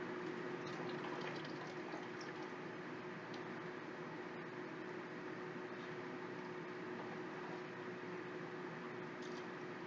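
Water poured off dirt during gold panning, a steady continuous sloshing and trickling of liquid, faint and even throughout with no voices.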